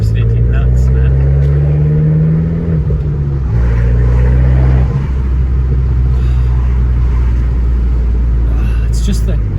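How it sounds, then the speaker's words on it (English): An Abarth's turbocharged engine rumbles loudly and closely, with the pitch rising under throttle and dropping between gear changes while a person talks over it. "It's that turbo in relation to the sound."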